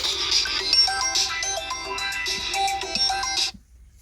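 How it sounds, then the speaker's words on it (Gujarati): A mobile phone ringtone plays loud and close, a bright repeating electronic melody for about three and a half seconds, then cuts off abruptly into silence. "કોકનો ફોન આવ્યો છે."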